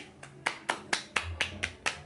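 Hands patting around the knee as a closing step of knee-pain therapy, a steady series of about eight crisp, close slaps at a regular pace with no voices.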